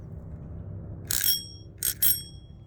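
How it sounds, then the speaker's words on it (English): A small bicycle bell rings three times, one bright ring followed by a quick pair, sharp and close over a low background rumble. "Always wanted a little bell."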